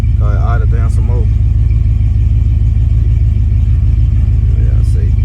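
A Buick Regal engine idles low and steady with a rhythmic low rumble, settling down as the choke stays engaged, while someone talks briefly at the start over the running motor.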